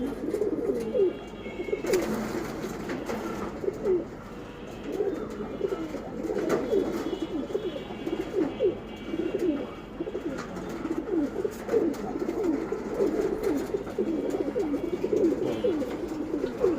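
Several racing pigeons, silver birds, coo in repeated low, rolling phrases, overlapping in a steady rhythm close by, with no talking.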